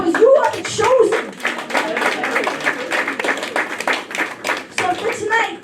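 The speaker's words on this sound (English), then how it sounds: "Give yourself a round of applause because you are the chosen." Scattered clapping from a small comedy club audience, mixed with voices and some laughter, rather than a full sustained ovation.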